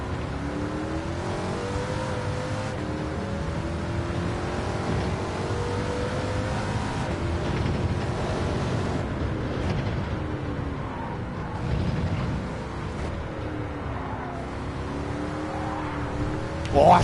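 A race car engine in Gran Turismo 7 revs hard through the gears, its whining pitch climbing and dropping repeatedly, with someone talking over it.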